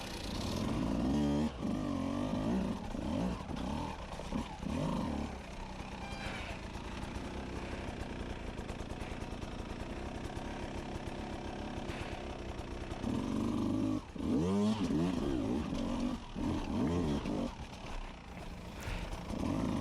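A 2021 Beta 200 RR two-stroke dirt bike engine runs and revs steadily near the microphone, a buzzing rasp that swells and dips with throttle changes throughout, with brief sharper blips along the way.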